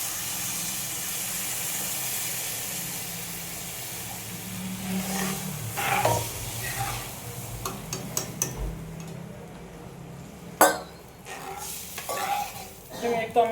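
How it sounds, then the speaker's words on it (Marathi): Water poured into a pan of sautéed ingredients for pithla, a soft sizzling hiss that swells midway, followed by scattered clinks and scrapes of stirring, with no voices. "हे सगळं एक व्यवस्थित परतवल्यानंतर पाणी घालतोय."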